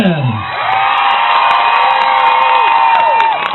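A concert crowd in Bar celebrating Independence Day cheers, whoops and shouts loudly and continuously, with high rising and falling yells rolling over a dense wall of voices.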